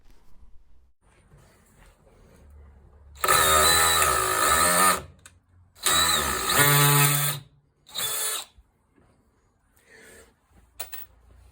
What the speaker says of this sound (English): If you recognise that sound as hammer mode, then you're correct.